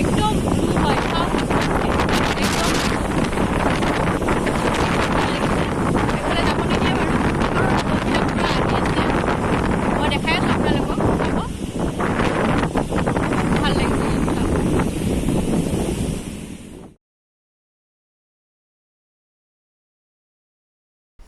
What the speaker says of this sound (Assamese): কিমান ধুনীয়া সুন্দৰ সাগৰ আৰু সাগৰৰ ঢৌবোৰ দেখি মনটো ইমান শান্ত হৈ যায়